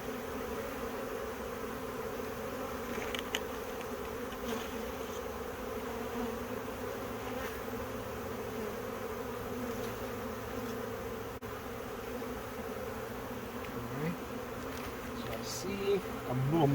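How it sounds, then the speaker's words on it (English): Honeybees from a swarm being captured in April buzz steadily and densely throughout, a close, continuous hum with no talking over it. "See a little march of bees down here."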